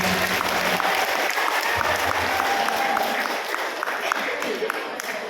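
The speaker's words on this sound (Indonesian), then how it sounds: "Tepuk tangan dong buat Tetehnya dong." Continuous applause from a crowd, steady and moderately loud, with a few sharper individual claps standing out near the end.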